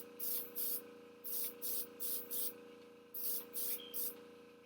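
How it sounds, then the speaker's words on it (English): An airbrush sprays paint onto a finger in short, evenly spaced hissing bursts, about nine in all, over a steady low background hum. "I'm going to airbrush it."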